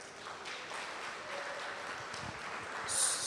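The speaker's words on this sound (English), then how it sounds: "if you liked it, please give a clap" Faint, distant applause from a temple convention audience in Tirupati, a soft, steady wash of clapping that swells slightly near the end.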